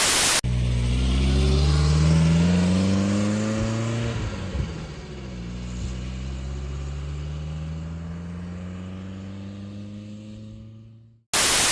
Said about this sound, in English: So here we are in the Bentley Turbo R.